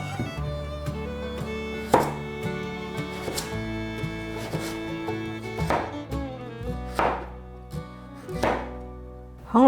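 A knife slices a peeled carrot on a cutting board in a series of crisp, close chops at an uneven pace, each cut a sharp knock against the board amid quiet background music.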